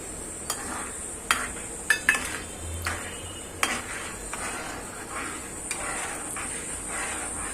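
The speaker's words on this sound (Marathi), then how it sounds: "आता ह्याच्यामध्ये आपण रवा घालूया." Semolina is stirred into boiling water in a pot, with a steady bubbling hiss and scattered sharp clicks and scrapes of a spoon against the pot, fairly close and without talk.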